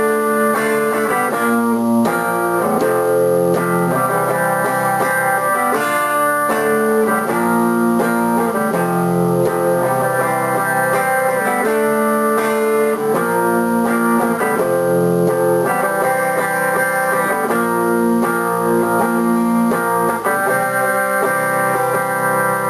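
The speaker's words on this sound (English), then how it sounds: "This riff is just a little chord progression." Electric guitar plays the verse riff of a song, a steady repeating chord progression with power chords and an effects-processed tone, loud and continuous without talk.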